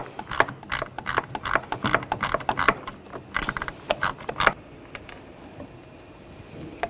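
A ratcheting socket wrench with a T25 socket removing a screw during a knock sensor replacement on a 2009-2017 Volkswagen Tiguan. Rapid, close clicking comes in quick bursts, then trails off into quiet.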